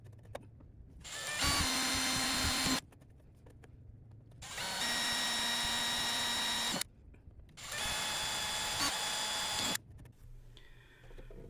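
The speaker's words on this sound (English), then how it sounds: "I've done a terrible job of drilling these holes" A power drill boring holes for a smart solar battery charger project runs in three long bursts of steady whine, each a few seconds, separated by short quiet pauses, loud and close.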